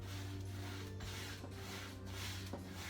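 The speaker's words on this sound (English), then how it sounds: "pulling back and forth, evenly coating that canvas, long brush strokes" Large paintbrush drags hot pink acrylic paint back and forth across a canvas in long strokes, a soft, close rhythmic rubbing swish repeating about every half second.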